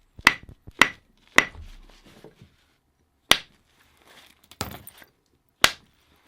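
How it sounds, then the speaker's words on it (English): A soft hammer strikes flint stone in sharp, distinct knocks, about seven clicks spaced irregularly with silence between, close and clear, with faint scraping after some blows. "I'm going to go straight in with a soft hammer."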